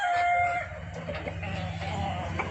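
A native spotted-breed rooster, a parent-stock male on a Kottathara farm, calls close by with a drawn-out crow blending into low clucking and background farm noise.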